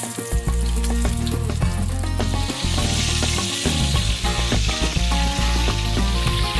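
Frog legs sizzle and sear loudly in a pot for Cajun-style cooking, a dense continuous frying hiss with crackling spatter, joined by a few low tonal sounds that rumble beneath.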